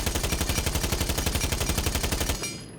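An AUG rifle with a muzzle brake fires in Rainbow Six Siege: a rapid, evenly paced automatic burst of roughly fifteen sharp reports that stops abruptly near the end, loud and close, with no talking.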